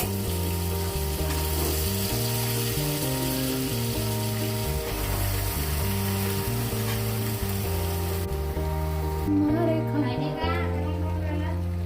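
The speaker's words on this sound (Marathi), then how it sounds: "फटाफट फोडणी दिली" Tempering spices sizzling in hot oil, a steady frying hiss that runs throughout with faint stirring, under loud background music with a tonal melody, in a home kitchen making a makeshift pani puri.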